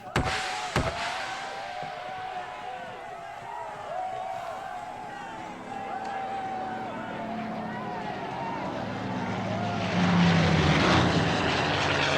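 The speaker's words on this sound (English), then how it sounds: "It was the wrong planes." C-47 transport planes pass overhead, a steady propeller-engine drone that swells louder near the end, with voices partly beneath it.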